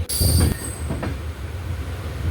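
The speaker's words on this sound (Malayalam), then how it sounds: "അങ്ങനെ ട്രെയിൻ സെൻട്രലിലേക്ക് എത്തി, തിരുവനന്തപുരം സെൻട്രൽ." Island Express train wheels squeal high and loud while the train pulls into Thiruvananthapuram Central, the shriek fading after a moment and leaving a steady rumbling rattle of rolling coaches.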